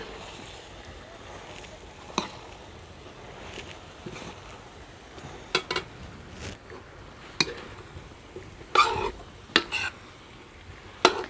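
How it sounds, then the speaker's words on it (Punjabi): Potato and eggplant sabzi with salt, chilli and spices is stirred in a pan at home: a low simmering background broken by irregular clinks and scrapes of the spoon against the pan, close by, with no talking. "ਅਤੇ ਹੁਣ ਆਪਾਂ ਇਹਨਾਂ ਨੂੰ ਐਨ ਚੰਗੀ ਤਰ੍ਹਾਂ ਹਿਲਾਵਾਂਗੇ ਤਾਂ ਜੋ ਜਿਹੜਾ ਆਪਣਾ ਨਮਕ ਮਿਰਚ ਹੈ ਮਸਾਲਾ ਹੈ ਉਹ ਐਨ ਬੈਂਗਣਾਂ ਦੇ ਵਿੱਚ ਰਲ ਜਾਵੇ।"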